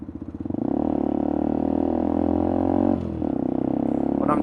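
A pit bike engine runs steadily and loud close by while riding, with a brief dip and stutter near the end of the run as a gear is changed before it pulls again.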